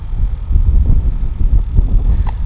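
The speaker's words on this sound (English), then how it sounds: "We got like a northwest wind blowing about 20, gusting over 20." Heavy, steady northwest wind of about 20, gusting higher, roars over whitecapping water and buffets the microphone with low rumbling gusts, loud and continuous throughout.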